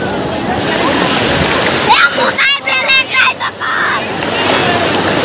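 Sea waves washing onto the beach at Puri, Odisha, a loud, steady rushing surf that dips briefly while a person talks close by, then swells again.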